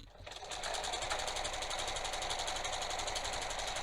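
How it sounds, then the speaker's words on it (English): A sewing machine runs at a steady fast pace, stitching elastic into a waistband with a long stitch, its rapid mechanical rhythm close and continuous after a brief start. "I'm just going to pull my elastic as I sew."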